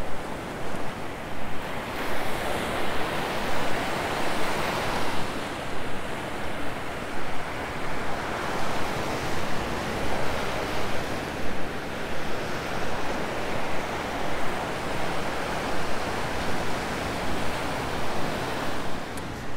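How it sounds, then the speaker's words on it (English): Ocean surf on a Sanibel Island beach, a loud continuous wash of breaking waves with rhythmic swells and gusting wind noise against the microphone, with no voices. "Does it feel like the surf is picking up, honey?"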